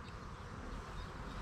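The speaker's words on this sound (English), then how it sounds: "There's bees in that box, and there's bees emerging." Honey bees buzz steadily inside a hive box fitted with a shallow super, a dense, continuous hum filling the whole moment without pause.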